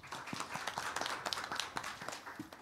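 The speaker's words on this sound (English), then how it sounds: "A round of applause, please." Scattered clapping from a small audience, irregular and fairly quiet, sounding like a modest round of applause in a room.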